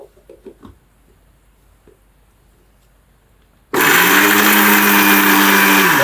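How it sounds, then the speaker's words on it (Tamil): Mixer grinder blending jaggery, silent apart from faint clicks at first, then starting abruptly into a loud, steady high-pitched whirring roar that continues to the end. "இதை அப்படியே மிக்சியில் போட்டு ஒரு சுற்றிட்டு வந்துட்டோன்னா நமக்கு இன்னும் கொஞ்சம் நைஸாக இருக்கும்"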